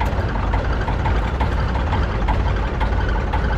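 A fishing boat engine idling, a loud, close, steady low rumble with a rhythmic knocking pulse running throughout, with no talk over it.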